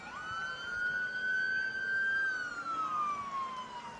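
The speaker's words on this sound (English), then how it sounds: "Police sirens, not really what you want to hear" A police siren wails in one long rising and slowly falling sweep, somewhat distant, steady over faint background noise, in North Little Rock.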